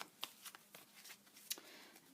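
Quiet papery riffling of cards being shuffled, soft repeated flicks and taps in an irregular rhythm, close by with no voices.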